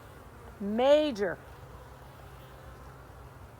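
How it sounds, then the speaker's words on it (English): Honey bees buzz around an open hive during a spring inspection, a steady low drone running throughout, while a voice briefly speaks over it partway through. "I can't believe the bee numbers."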